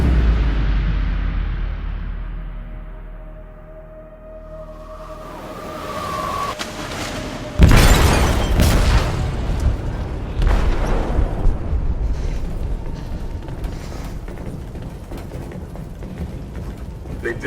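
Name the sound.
explosive detonated in ship's hold, video game Detroit: Become Human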